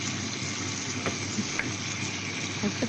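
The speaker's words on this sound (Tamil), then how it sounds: "எண்ணெயில் ரச்சி எல்லாம் பறந்து கொண்டு வருது." Mutton pieces frying in oil for a village-style mutton curry give a steady, close sizzle with a few small pops and crackles, and no voices.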